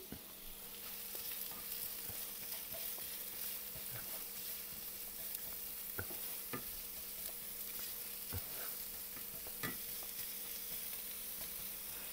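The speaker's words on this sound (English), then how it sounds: "So I'm going to saute that." Onions and garlic sautéing in a pan for a marinara sauce with San Marzano tomatoes, a quiet, even sizzle with occasional soft utensil taps.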